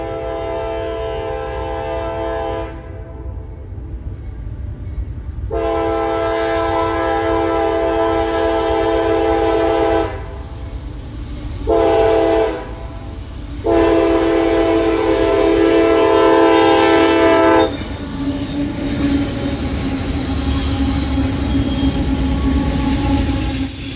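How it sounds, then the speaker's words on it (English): CSX freight train with a mixed locomotive lashup crossing the Tennessee River in North Alabama, its horn sounding loud, long blasts with brief pauses over the steady rumble and wheel noise of the passing cars. "would trail behind CSX Power as the train crossed the Tennessee River"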